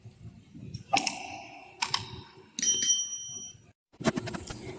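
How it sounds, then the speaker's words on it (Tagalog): A bell-like notification sound effect chimes several times, bright and close, layered with quick clicking taps in an uneven rhythm with short pauses between. "turn on the notification bell"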